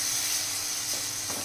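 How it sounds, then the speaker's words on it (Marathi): Masala with oil sizzles in a pan for a ridge gourd curry, a steady, even hiss of frying heard up close with no talk. "1 मिनिट आपण हे छान फ्राय करून घेणार आहोत पुन्हा"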